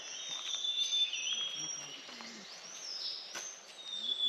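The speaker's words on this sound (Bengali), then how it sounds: "শুনতে পাচ্ছেন পাখির আওয়াজ?" Birds call in cloud-covered, misty hills on the road to Sillary village near Kalimpong, with a series of thin, high whistles and chirps repeating over a quiet, steady background.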